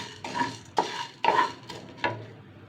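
Twenty-five grams of black peppercorns dry roasting in a pan are stirred with a utensil, giving four or five distinct scraping, rattling strokes against the metal with no one talking.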